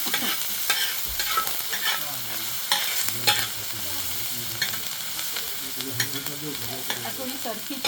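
Onions fry and sizzle in a pan while a spoon stirs and scrapes them at intervals, a continuous close sizzle with repeated stirring clatters, cooked for a matar paneer sabzi.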